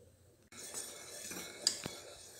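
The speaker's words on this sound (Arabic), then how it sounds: "صافي غادي نبقى نحرك حتى تعقد الكريمه ديالي." Pastry cream for filling doughnuts stirred in a pot, a spoon scraping and clinking lightly against the metal with a couple of sharper taps, fairly faint and close.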